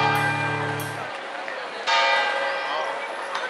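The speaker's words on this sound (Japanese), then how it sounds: "ちょうど聖マリア教会鐘鳴りました。" Bells of St. Mary's Church ring out over the main square in Kraków, loud struck tones with long shimmering overtones, a couple of strikes decaying amid the open-air ambience of the square while people talk nearby.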